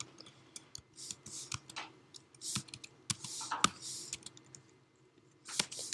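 Fast, uneven typing on a computer keyboard, with scattered sharp key clicks in short bursts and pauses, fairly close and moderately quiet, with no talking over it.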